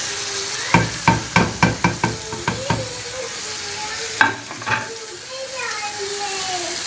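Prawn biryani masala with tomatoes, chilli paste and garam masala spices sizzles in oil as a spoon scrapes and stirs it in quick repeated strokes, close up, with faint voices in the background.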